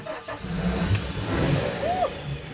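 A Glastron boat's V6 engine revs outdoors, rising and falling in a mid-pitched roar with a rising whine near the end, moderately loud at some distance.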